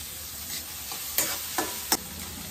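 Onion fries in a pan for upma with a low steady sizzle and a few sharp stirring clinks and scrapes, moderately quiet and with no one talking.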